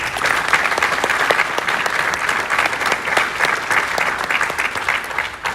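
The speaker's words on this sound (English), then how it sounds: "So let's give him a round of applause." An audience at Flight Sim Expo 2021 in San Diego breaks into steady, dense applause, many hands clapping evenly and loudly throughout with a faint crowd murmur underneath.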